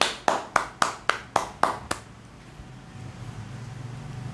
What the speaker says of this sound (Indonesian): Tepuk tangan untuk UNES.